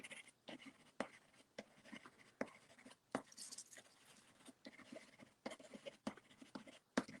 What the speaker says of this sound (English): barely lifting my pencil off the paper, I'm adding each of these seed heads.